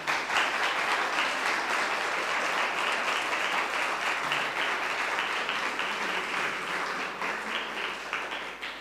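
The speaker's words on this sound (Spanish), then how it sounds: "Un aplauso." A crowd applauding continuously, a dense wash of clapping that holds steady throughout and tapers slightly at the end.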